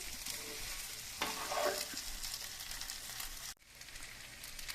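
Ragi vermicelli upma with salt and green chillies stirred in a hot pan: a steady soft sizzle with scraping stir strokes, close by, briefly louder in the middle before a short drop and resumption.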